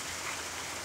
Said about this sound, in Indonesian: Hujan sudah turun.